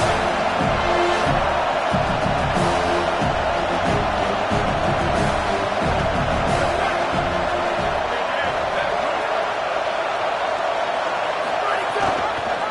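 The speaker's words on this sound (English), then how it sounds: "This crowd trying to make life miserable for this offense." Dense, continuous roar of a college football stadium crowd at Washington vs USC, loud and sustained, with swelling cheers and an announcer talking over it.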